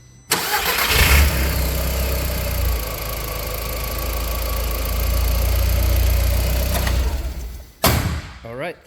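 A 2001 Audi TT 225hp cranks and fires up, settling into a steady loud idle close by before cutting off abruptly near the end.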